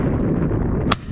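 A single shotgun shot at a high-flying pheasant on a driven shoot cracks out once near the end over steady outdoor rumble.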